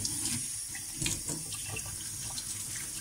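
Running tap water splashes steadily into a sink as muddy wild mushrooms are rinsed clean, with a constant close gush and small shifts in the splash.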